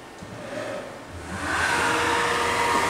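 Spindle of a Rottler F65A CNC programmable automatic machining center spinning up, a whirring tone that rises and settles into a loud steady whine after a brief dip, heard close with no talk.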